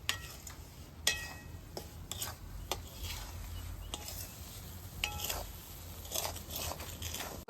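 Semolina roasts in a pan for sheera while a spoon stirs it continuously, making steady gritty scraping with frequent sharp clicks of metal against the pan, close and with no talk.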